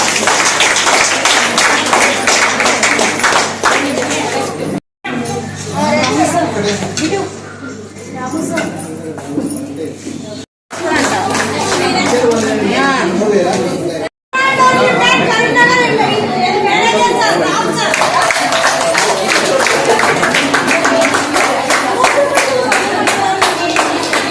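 Dense, loud clapping from an audience at an 8th-anniversary cake-cutting celebration of the Shiva Sai group, sustained for most of the stretch with only brief cutouts, mixed with crowd chatter and voices.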